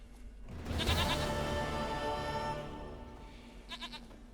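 Goat in The Witcher 3 gives a long, loud wavering bleat, followed by a shorter quivering bleat near the end, with no talk over it.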